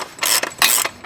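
Ratchet wrench tightening the rear axle nut on a 2019 Yamaha MT-09, heard as three close bursts of rapid clicking separated by short pauses, loud and alone.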